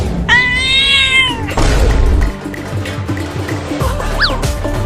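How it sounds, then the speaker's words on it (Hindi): A cat gives a loud, close, drawn-out meow near the start, followed by thumps and clatter and then a short, higher mew later on. "अरे वाह, वो रही एक बिल्ली।"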